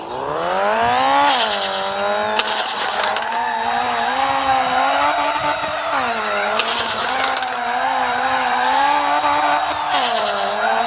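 A drift car in FR Legends revs hard with repeated rising and falling engine pitch, and tire squeal bursts in at intervals throughout. It is loud and close, with no talking.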